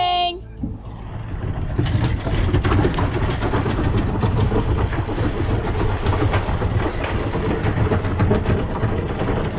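An anchor is dropped from a sailboat at an anchorage. After a brief pause the chain runs out in a loud, continuous metallic rattle and clatter close by.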